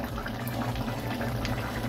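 Chicken curry gravy with potatoes simmering in a pot, a soft steady bubbling hiss with no breaks, close and fairly quiet, no talking.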